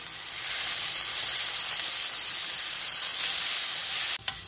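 Fish cake frying in oil in a pan over medium-high heat, with a steady, loud sizzle that runs continuously for about four seconds before cutting off abruptly near the end.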